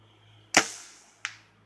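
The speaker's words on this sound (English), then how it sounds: "We should hear the thud if he hits it." Arrow from an archery shot at a 47-yard target through branches and trees, heard as a sharp crack followed about half a second later by a fainter thud, both distant and alone.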